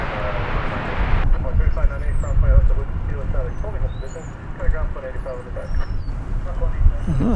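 Heavy jet aircraft at DFW Airport give off a continuous broadband roar, loud and fairly close, that rises and falls slightly over several seconds while people talk over it.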